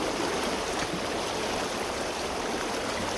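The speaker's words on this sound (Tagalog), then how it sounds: "Malakas tong baha na to, baka maanod tayo." Strong floodwater in a river rushes as a dense, continuous roar of flowing water, loud and unbroken, with no voices.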